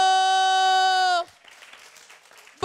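Studio audience applauding a guest on a Beninese television show: a short burst of clapping, moderately faint, follows a sustained electronic tone and ends as the tone returns.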